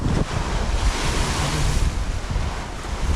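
Powerful sea waves crash and roar continuously on the shore at Amlan, Negros Oriental, Philippines, with heavy wind buffeting the microphone throughout; no voices.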